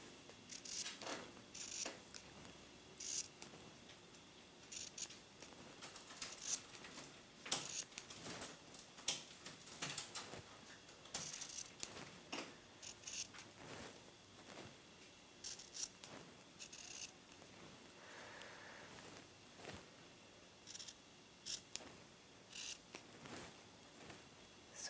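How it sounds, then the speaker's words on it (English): Scissors snip notches into the curved princess seam of a 1950s-style halter dress, making a run of quick, close, crisp little cuts in irregular bursts, quiet and with no voices. "I'm going to notch the curved side of the princess seam."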